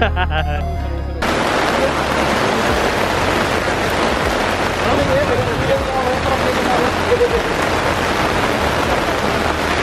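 Steady, heavy rain pours down at an outdoor RC off-road car race, the ATEES Cup 2019 in BSD, as a dense, continuous hiss that starts abruptly after a brief musical intro and lasts to the end.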